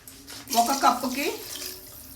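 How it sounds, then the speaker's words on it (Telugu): Water is poured into a cooking pot in a short splashing gush that swells and fades over about two seconds, with a voice murmuring faintly over it. "1కి 3 చొప్పున నీళ్లు పోసుకోవాలి"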